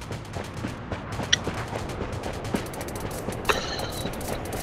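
Dense, continuous video game gunfire with repeated sharp shots and bursts over a constant noisy battle din, fairly loud and close throughout.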